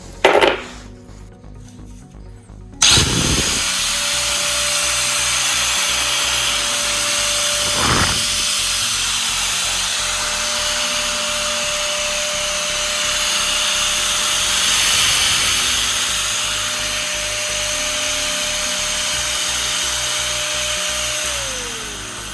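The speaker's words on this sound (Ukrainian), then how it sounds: "Зараз спробуємо її включити, послухати, який вона має звук." A Sturm AG9012T angle grinder clicks on and runs with a loud, steady high-pitched whine for about twenty seconds before spinning down.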